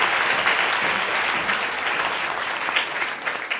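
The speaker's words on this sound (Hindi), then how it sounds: "तो एक बार डॉक्टर उपासना के लिए जोरदार तालियां।" A crowd claps loudly and continuously for a few seconds, dense applause filling the room without pause.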